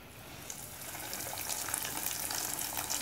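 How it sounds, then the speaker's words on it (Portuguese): Breaded filé à parmegiana dropped into very hot Concórdia soybean oil, a continuous crackling sizzle with scattered pops that grows slightly louder and denser over a few seconds, close and alone. "a gente vai colocar o nosso filé à parmegiana. no nosso óleo de soja Concórdia,"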